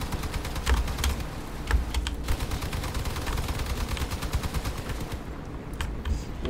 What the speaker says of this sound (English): So with 3 machine guns, it seems to be doing pretty good damage.